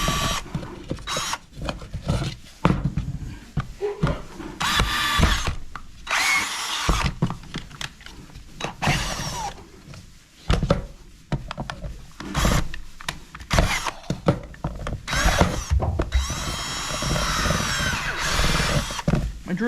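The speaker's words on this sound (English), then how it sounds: "we have to drill this out because you have to be able to get the wire through it" A power drill whirs in repeated bursts, stopping and starting as it bores through material, close and fairly loud, with short pauses between runs.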